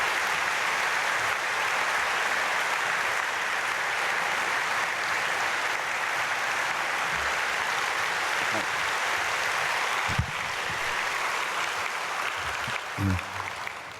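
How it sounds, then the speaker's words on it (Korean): A church congregation applauding at a dawn prayer service to welcome a guest pastor, a dense, steady wash of clapping filling the hall, with a few low thumps near the end. "박수로 맞이하겠습니다."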